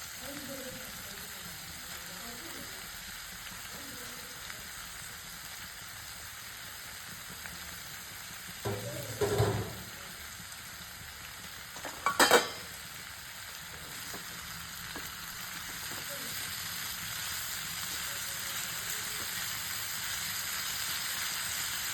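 Tomato pieces tumble into a pan where ridge gourd is cooking, sending up a steady sizzle with two short bursts of clatter and hiss as they drop in, then the frying settles back to a constant close simmer.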